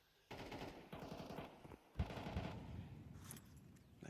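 Rapid automatic gunfire in a Counter-Strike match, bursts of sharp shots spraying down a long sightline, fairly faint and distant, broken by a short pause before another run of shots.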